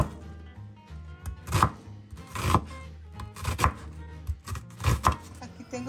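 A knife chops tomato, cilantro and onion on a cutting board in rhythmic bursts of close, woody thuds, with quieter scraping between the clusters of strokes.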